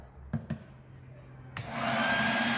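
A hair dryer switched to cold air and aimed into the mouth of a plastic PET bottle, a couple of soft clicks and then a steady, loud whooshing airflow that starts abruptly and keeps going.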